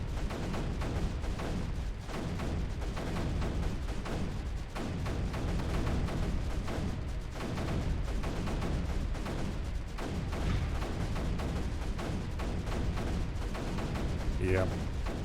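Mortar artillery fire in a video game: a dense, continuous barrage of muffled booms and gunfire rumbling steadily without pause, fairly loud and constant throughout.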